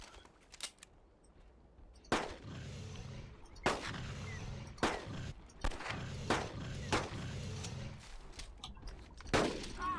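Revolver shots fired at a charging Rex in Carnivores: Dinosaur Hunt, several sharp, loud separate bangs spaced about a second apart, each trailing into a brief echoing tail, with quieter clicks between.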